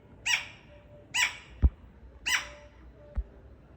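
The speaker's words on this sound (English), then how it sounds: "Look at how upset the bird is." An agitated bird gives three loud, harsh descending calls spaced about a second apart, with two sharp low knocks or thumps falling between them, against a faint steady background.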